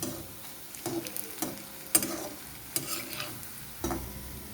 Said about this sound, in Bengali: তাই একটু সময় ধরে এগুলোকে ভাজতে হবে